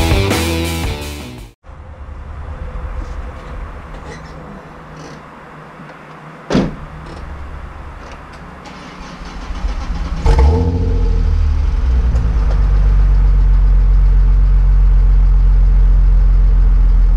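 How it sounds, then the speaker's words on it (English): A car is moved out of a home garage. A door thuds shut, then the engine starts with a sharp burst, rises and settles into a loud, steady, close idle hum that continues to the end. "Moving some cars."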